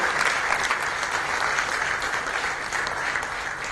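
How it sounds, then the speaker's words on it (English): Audience applause at the Social Entrepreneur of the Year India 2015 awards for Prabha and Commutiny, a dense steady clapping from a large crowd that stays even throughout, with no one talking over it. "Ladies and gentlemen, a big round of applause for Prabha and Commutiny."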